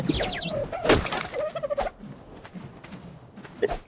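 Fowl calls in a dinosaur video game, squawking gobble-like clucks in quick bursts over background game noise, brief and fairly close.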